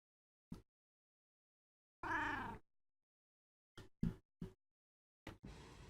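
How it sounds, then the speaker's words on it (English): Amos the cat meows several times in short bursts, some drawn out and some clipped, close to the microphone against otherwise silent surroundings. "you can hear my cat Amos giving me tactical advice"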